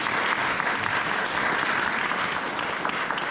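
Church audience giving a guest speaker a hand, steady dense applause that fills the whole moment at an even, fairly loud level.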